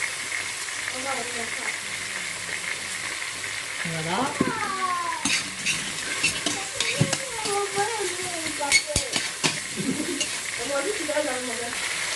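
Coarsely chopped onions sizzle in a little oil in a pan while being stirred, with scraping and clinks of the utensil mixed in over a steady frying hiss, close and moderately loud.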